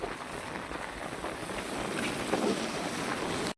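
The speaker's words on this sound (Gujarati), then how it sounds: "24 કલાક તા વરસાદ ચાલુ ચાલુ છે, બન જ નથી" Steady, loud rush of wind and heavy rainfall over a flooded village, a dense continuous noise with no voices, cutting off abruptly at the end.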